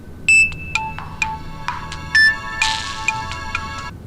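A phone ringtone plays after a call is dialed, a bright electronic melody of repeated tonal notes in short bursts, loud and close, with no talk over it.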